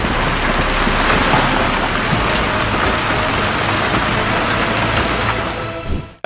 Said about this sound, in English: A freak hailstorm on June 30 smashed into Guadalajara, one of the most popular cities in Mexico.